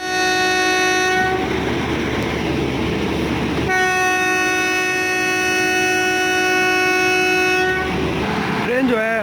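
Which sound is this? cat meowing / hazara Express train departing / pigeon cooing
hazara Express train departing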